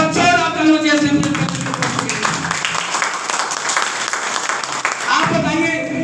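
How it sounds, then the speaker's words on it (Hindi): Broad crackling applause from a crowd at a business leadership event in Lucknow fills most of the stretch, with a voice speaking over it at the start and again near the end. "एक बार जोरदार तालियों से"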